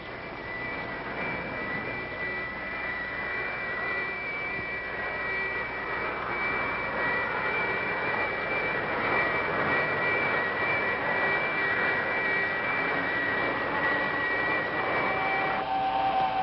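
A sci-fi spacecraft engine roars with a steady, whining thrust that builds gradually, tonal hums rising over a broad rushing drone, moderately loud and continuous with no talk.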